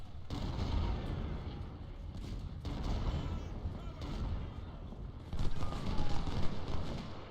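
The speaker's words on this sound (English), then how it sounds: "Statham, lay down fire on Harris." Civil War rifle and artillery fire in Ultimate General: Civil War rolls on as continuous rumbling volleys with dense crackling shots, swelling louder near the end.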